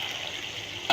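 Spice paste with turmeric stir-frying in hot oil, a steady close sizzle with light stirring and a brief louder scrape near the end.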